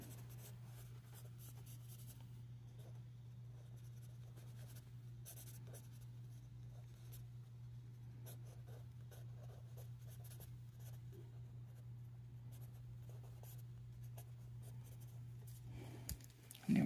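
A pencil or pen drawing a gun on paper, a faint steady scratching of strokes close by over a constant low electrical hum, with no voices.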